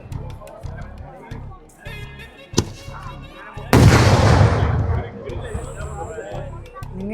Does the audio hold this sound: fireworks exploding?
yes